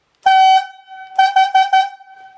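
Yarder whistle giving a slackline logging signal for four coils back: one long horn-like blast followed by four quick short toots, loud and clear with no talking.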